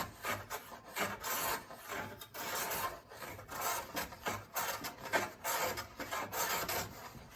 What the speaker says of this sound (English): I don't set it too deep a cut on it, and just start trimming